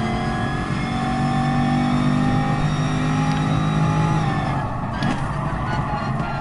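Racing car engine from Gran Turismo Sport during an online daily race, a continuous held drone with steady harmonic tones and a brief shift near the end, turned down low in the mix.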